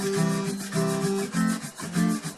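Guitar strings rubbed below the neck like drum brushes, a soft rhythmic swishing scrape repeating in even strokes over sustained tonal chords of the song, close and fairly loud with no talk.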